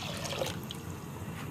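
Water trickling and splashing softly into a heated wok with sugar in it, a brief faint pour with no voices.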